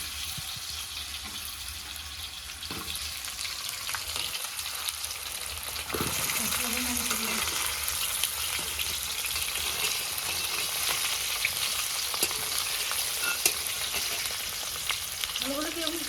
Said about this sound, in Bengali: আলু ভাজবে।